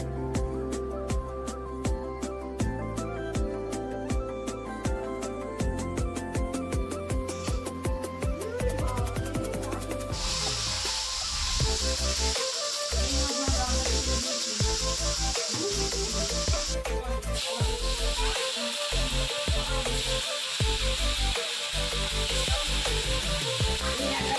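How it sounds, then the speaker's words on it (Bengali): Hilsa fish sizzles in hot mustard oil in a kadai, a continuous frying hiss that is joined midway by a brighter, louder crackle, with tonal music playing throughout. "এবার কড়াতে সর্ষের তেল দিয়ে তেলটা গরম করে নিয়ে মাছগুলো হালকা করে ভেজে নেবে।"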